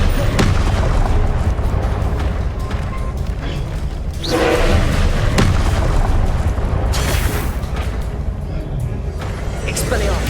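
Confringo blasting spells in Hogwarts Legacy go off as repeated loud booming explosions in a busy combat mix, interleaved with other spell casts and a voice calling out spell names.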